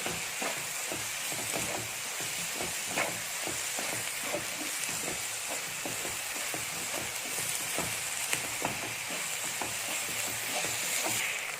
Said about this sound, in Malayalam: ഈ വെളുത്തുള്ളി ഇഞ്ചി അതും കൂടി ഇട്ട് കൊടുത്തേക്കാം. അതും ഇതിൽ കിടന്ന് തന്നെ അങ്ങോട്ട് വാടി വരട്ടെ